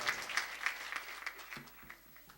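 Audience at a Rajasthani kavi sammelan applauding a poet: a burst of dense clapping that gradually thins and fades over a couple of seconds, heard from a moderate distance.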